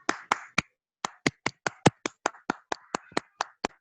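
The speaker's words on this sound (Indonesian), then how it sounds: "Kita akan berikan tepuk tangan yang meriah buat para saksi Kristus kita" Applause from a congregation at a church service in Yogyakarta, heard as a short run of about fifteen separate, fairly faint claps in an uneven rhythm, with no talking over it.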